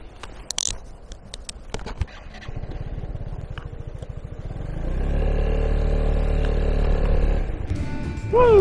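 A 2021 Piaggio MP3 three-wheel scooter pulls away on a city street, clicks and a light idle giving way to a steady, rising engine hum that stays close and fairly loud, with no talking.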